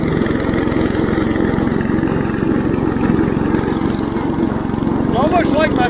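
An IH Cub Cadet 149 lawn tractor with a 44-inch Model 40 deck mows a full cut through thick barnyard grass, its engine droning steadily and loud throughout, with a brief scrape of clippings near the end.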